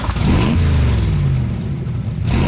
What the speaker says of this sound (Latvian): mopēds ir piedarbināts un viss notiek